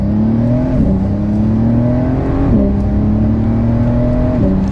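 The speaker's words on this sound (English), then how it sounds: "I love the sound of that exhaust. So we'll give it another acceleration." A loud Porsche 911 Carrera S (992) pulls hard under acceleration, its exhaust note climbing steadily and dropping briefly at two quick gear shifts before rising again.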